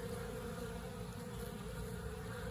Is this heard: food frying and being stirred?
no